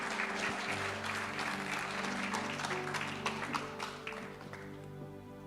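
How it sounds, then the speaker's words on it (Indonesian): Applause from a church congregation welcoming a speaker at a Sunday service, dense and steady clapping throughout, tapering slightly toward the end with some tonal music or hum underneath. "Kasih tepuk tangan yang teman-teman."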